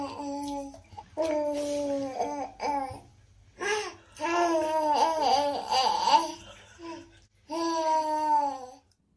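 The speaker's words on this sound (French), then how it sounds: "qui prend plaisir dans son bain à faire résonner des sons dans sa bouche" A baby babbles and coos playfully in the bath, making resonant mouth sounds in bursts with short pauses, close up, with a giggle-like tone between phrases.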